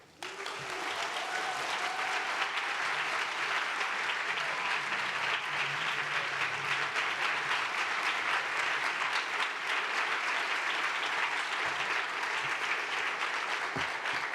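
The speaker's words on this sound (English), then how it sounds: "Round of applause for Monica one more time." Full, continuous audience applause at an awards event honoring mothers, dense and steady throughout with no pause, filling the room at an even loudness.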